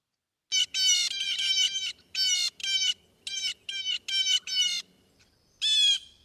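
A blue jay gives a series of harsh, raspy calls in short bursts, some doubled, with brief pauses between them, fairly close and clear over a quiet background.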